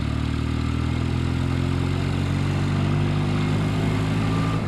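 A Norton 650SS motorcycle engine runs steadily at a low idle, a continuous throbbing hum close by with no voices over it.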